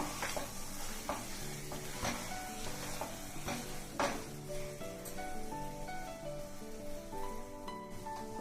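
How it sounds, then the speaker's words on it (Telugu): Thick halva with fried cashews and cardamom powder stirred in a pan, a steady close sizzle and soft scraping running throughout with occasional clinks of the spoon against the metal. "మనం వేయించి పెట్టుకున్న జీడిపప్పు కలిపి 1 నిమిషం అట్లా వేగనిద్దాము."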